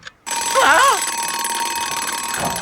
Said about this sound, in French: Posé sur la table de nuit, le réveil indique